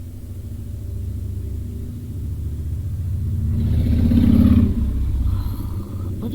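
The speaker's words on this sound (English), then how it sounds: "Bloody motorbike." A motorbike passes by outdoors, its engine rumble swelling to a louder peak and then fading away, all heard beneath a quiet background hum with no talking.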